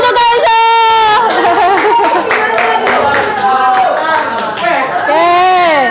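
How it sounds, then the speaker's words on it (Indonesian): A classroom of students claps for a pupil named Kaisa during a physics lesson on the density of solids. The clapping is a loose patter of hands mixed with excited children's voices and chatter that run over it throughout. "Tepuk tangan untuk Kaisa."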